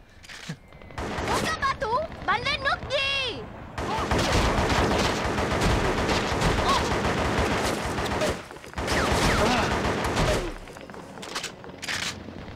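Gunfire bursts from the Vietnam War video game Shellshock: Nam '67 on PS2, dense rapid shots and booms filling most of the stretch, loud and close, with some voices and a brief lull in between.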